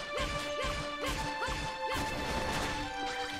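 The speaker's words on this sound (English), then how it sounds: "I hear them smashing against my traps over here" Enemies in the video game Dragon Quest Builders smash against traps, producing loud repeated crashing impacts in a steady rhythm over layered game music and effects.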